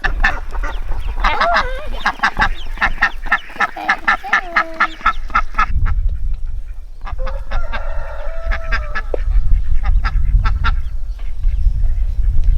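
Flock of domestic waterfowl on a New Zealand homestead, dense overlapping honks and quacks calling constantly and loudly nearby throughout, some geese-like honking mixed in, with no talk.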